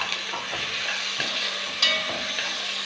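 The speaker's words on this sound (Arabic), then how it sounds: "نكمل نقلي شويه" Chopped onion fries in oil in a pan for an olive tagine, a continuous close sizzle broken by several scraping stir strokes from a spoon, with no voices.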